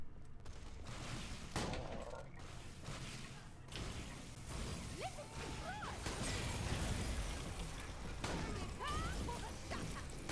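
Too Scoops cryo shotgun from Borderlands The Pre-Sequel firing on Aurelia, a series of booming blasts and crashes with whooshes and mechanical clicks over steady game ambience, with a voice talking over parts of it.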